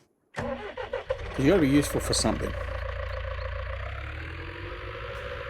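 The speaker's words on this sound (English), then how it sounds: "Go grab this tractor." A tractor in Farming Simulator 19 cranks and starts with a rising whine, then settles into a steady mid-pitched idle that holds to the end, with someone talking over the start-up.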